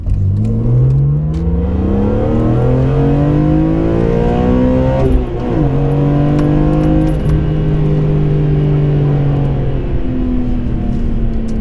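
A car engine and exhaust rev up through the gears, rising and falling in pitch with smooth shifts, loud and close throughout with no talk.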